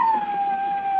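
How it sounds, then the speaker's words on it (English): Radio drama sound effect of a dog howling: one long, steady, mournful tone that drifts slightly downward, loud and close, heard alone with no talking. "Charles, the neighbor's dog's at it again, Mrs. Edney."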